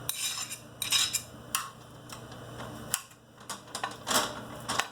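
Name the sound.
shallots and ginger placed into a pan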